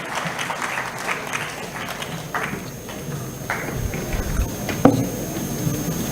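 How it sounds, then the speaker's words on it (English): Audience applause at a pharmaceutical intellectual property conference during a memento presentation, moderate, uneven clapping with a few sharper nearby claps and a louder knock near the end. "Let us have a round of applause."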